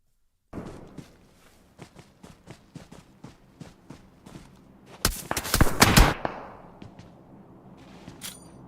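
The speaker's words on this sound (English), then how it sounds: "Got some shots coming in from somewhere there. I heard some bullets land." Gunfire in the mobile shooter PUBG Mobile: a steady run of evenly spaced sharp shots, then a dense loud burst of rapid fire, followed by a few scattered cracks, with no talking.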